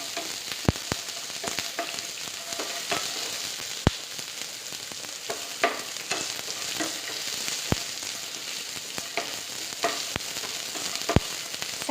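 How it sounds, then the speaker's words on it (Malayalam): Chopped onion sautéing in a pan for wheat rava upma, a steady bright sizzle with scattered sharp crackles and pops throughout, close and continuous with no talk. "ചെറിയൊരു പീസ് സവോള ചെയ്ത ശേഷം നമുക്കൊന്ന് സോട്ട് ചെയ്ത് കൊടുക്കാം."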